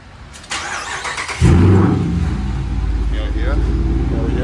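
A straight-piped Dodge Charger R/T warm-starts with a sharp starter whir and a loud, raspy bark, then settles into a deep, rumbling idle close by.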